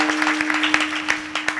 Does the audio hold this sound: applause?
yes